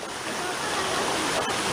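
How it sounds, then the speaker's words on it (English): An Icelandic waterfall gives a steady, dense roar of rushing water, continuous and fairly loud, with no talking over it. "all of the beautiful waterfalls that Iceland has to offer"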